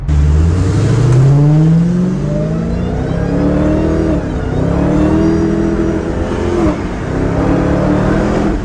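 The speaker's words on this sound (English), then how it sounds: "One little tap of the throttle and this thing is spinning the wheels like crazy." Dodge Challenger Hellcat in Las Vegas roaring at high revs as its rear wheels spin, a loud, sustained engine howl rising and dipping in pitch, close and with no talk.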